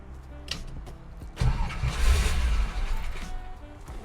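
A 1955 Ford Courier with a choke, sitting outside for hours, cranks briefly and then catches, its engine roaring up loud and close before settling into a rough, high idle.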